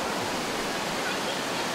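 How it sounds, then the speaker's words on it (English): Steady broadband rush of water from a hotel water slide, continuous and fairly loud throughout with no distinct breaks. "there's a water slide in here"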